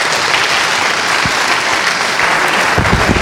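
Audience at a FOSDEM 2016 Linux conference talk applauding a sound technician, dense sustained clapping from a large crowd filling the room.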